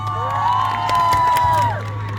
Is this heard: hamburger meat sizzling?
no